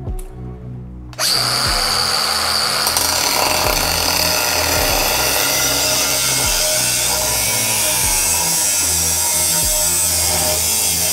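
A power tool cuts off the end of a Toyota Land Cruiser 1HZ diesel muffler, a loud, continuous grinding whine close by that starts abruptly and runs steadily with a pulsing rhythm.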